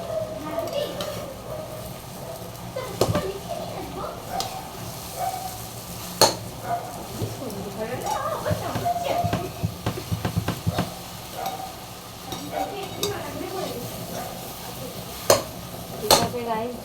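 Food stirred and sizzling in a home cooking pan, a steady low frying hiss broken by scattered spoon scrapes and sharp metallic clinks against the pan, close up.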